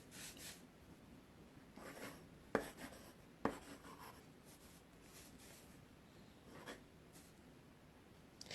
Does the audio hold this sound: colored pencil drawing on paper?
yes